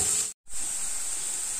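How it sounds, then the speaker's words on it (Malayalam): Chopped onions with salt sautéing in a pan give a steady close hiss and sizzle, broken by one brief silent gap before the frying noise resumes. "സബോളയൊന്ന് നന്നായിട്ടൊന്ന് വഴറ്റിയെടുക്കാം."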